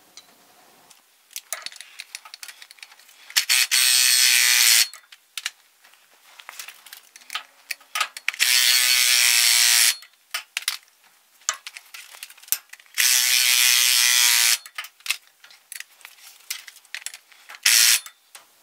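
Hand ratchet tightening nuts on the driveshaft center support bearing of a 2001 Kia Sportage, heard as loud, close bursts of rapid clicking separated by quieter pauses with small clanks of tool handling.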